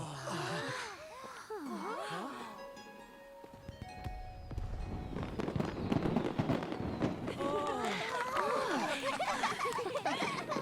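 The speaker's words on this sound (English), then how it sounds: "Oh, the fireworks are a distraction." Fireworks bursting in Genshin Impact, a cluster of crackling pops and bangs in the middle stretch, framed by voiced dialogue and gasps before and after.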